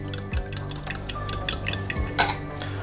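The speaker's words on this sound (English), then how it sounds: "I just want to break them up with my fork. And I'm going to add in my milk. And again, you don't have to go crazy with the whisking" A fork beats eggs and milk in a bowl for a quiche, a quick run of light metallic ticks and taps against the dish, close and alone.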